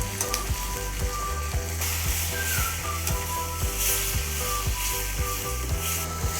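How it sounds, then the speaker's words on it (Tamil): Onions for a fish curry sauté in a pan with a continuous loud sizzle, punctuated by regular soft scraping knocks of stirring, heard close with no talk. "வெங்காயம் நல்லா பொன்னிறமாக வதங்கட்டும்"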